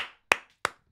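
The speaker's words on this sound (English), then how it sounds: "I'm clapping right now." Three sharp, loud hand claps spaced evenly about a third of a second apart, each with a short decaying ring, from one person clapping nearby.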